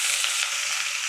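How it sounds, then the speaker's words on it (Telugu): Chopped onion frying in hot oil with cumin seeds, sizzling steadily for about a second, close and fairly loud with no talk. "ఇది ఫ్రై అవుతుంది."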